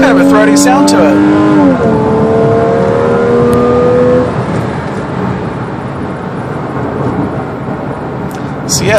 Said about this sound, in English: It's got kind of a throaty sound to it.